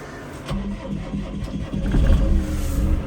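A John Deere 6330 tractor's diesel engine, with 7425 hours and a front loader, cranks and catches, then settles into a steady low rumble that grows slightly louder, heard up close with no talking.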